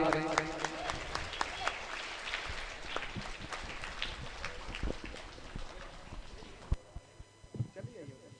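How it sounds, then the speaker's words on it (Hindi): A crowd at a Shiv Mahapuran katha gathering claps loudly to welcome guests, with uneven, crackling bursts that thin out toward the end while voices carry on underneath. "और जोरदार तालियों से इन सभी मेहमानों का आप स्वागत करें।"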